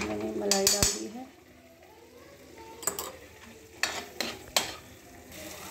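Cream being stirred into a simmering egg curry gravy in a pan, with a few loud scraping clanks up close at the start, then quieter stirring and several sharp utensil knocks against the pot.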